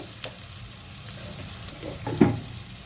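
Spices such as Kashmiri red chilli, coriander, turmeric and cumin powder frying in hot oil for bottle gourd kofta, a steady soft sizzle with occasional louder spatter and stirring clicks, close by and without talk.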